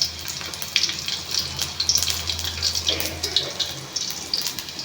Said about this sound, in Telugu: కరివేపాకు ఉంటే కరివేపాకు కూడా వేసుకోవచ్చు ఇవి కొంచెం చిటపట్లాడాలి